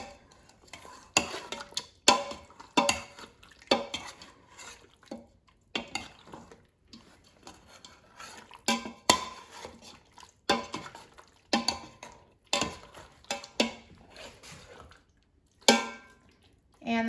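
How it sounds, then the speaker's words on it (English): Frozen ravioli being stirred with jar pasta sauce in an Instant Pot, a utensil scraping and clinking against the metal pot in repeated irregular bursts with short pauses between strokes. "And mix so the ravioli is coated with sauce."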